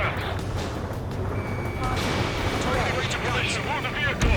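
Anti-aircraft gunfire in the Ace Combat 7 video game, a dense continuous rumble of distant firing and explosions under steady battle noise, with a faint radio voice mixed in.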